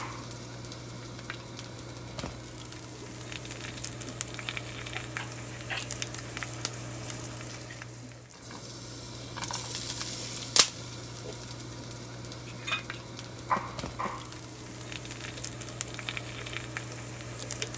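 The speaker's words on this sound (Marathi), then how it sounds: "आता आपण ही पुरणपोळी घालून घेऊया तव्यावर." Puran poli cooks on a hot tawa griddle with a steady, soft sizzle throughout, flecked with small crackles and pops, over a constant low hum.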